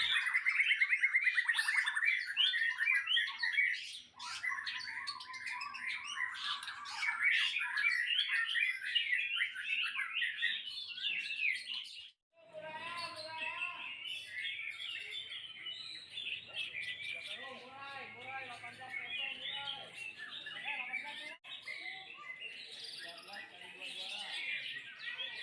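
A white-rumped shama (murai batu) sings at home with bright, varied whistles and rapid chattering phrases, close and continuous, with a short pause midway; someone talks faintly underneath.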